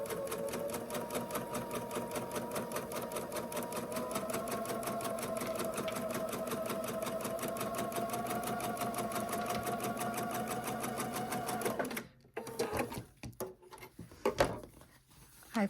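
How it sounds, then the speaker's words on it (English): A sewing machine stitches a freezer paper foundation-pieced quilt block in one steady, fast run of about twelve seconds, then stops, followed by a few soft handling knocks and rustles. "we're going to quickly sew this together here."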